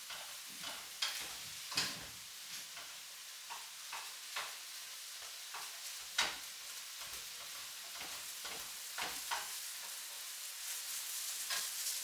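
Ground beef fries in a pan for burritos, giving a quiet, steady sizzle broken by repeated scraping stirs and soft clicks of the utensil at an irregular rhythm.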